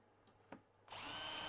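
A power drill fitted with a 2.5mm bit bores screw holes in wood at a workbench. A couple of faint clicks come first, then the drill spins up loud and steady and keeps whirring.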